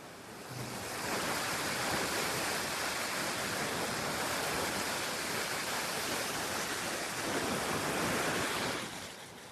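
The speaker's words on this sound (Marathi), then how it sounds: "नाही तर बघा लाटा डायरेक्ट इथेपर्यंत येत आहे." Floodwater of the Ras river rushing in waves near a bridge after heavy rain, a loud continuous roar of churning water with wind noise, swelling in and fading out, with no talk.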